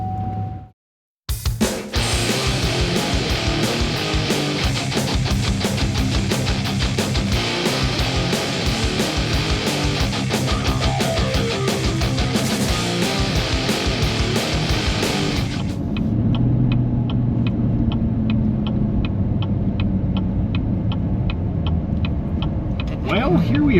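A custom Ford Bronco under restoration cranks and fires up. A loud, dense roar carries for several seconds before settling into a steady, low idle rumble as it gets underway.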